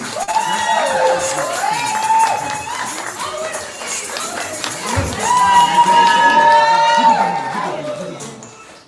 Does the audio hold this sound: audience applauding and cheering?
yes